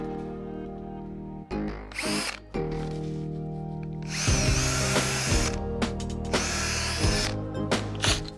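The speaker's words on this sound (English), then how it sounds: "we need to pre-drill the screw holes because we're so close to that end grain" A power drill pre-drills screw holes into timber for a fence mounted on a brick wall, close to the end grain; several loud bursts of whirring and biting into wood, separated by short pauses, with no talk.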